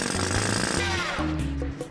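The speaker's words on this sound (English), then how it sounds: "Playing with the jackhammer." A jackhammer pounds at a concrete drainage piece on a construction site, its loud rapid hammering steady and close, briefly pausing and restarting, then easing off near the end.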